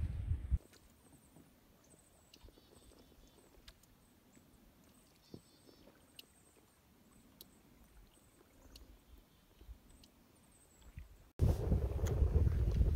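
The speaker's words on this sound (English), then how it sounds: "Wind is moving us along." Wind gusts across a lake during a canoe trip on Algonquin's Tim River and Tim Lake, a low, steady rumble of buffeting air that ends in a sudden loud blast of wind on the microphone. No one speaks.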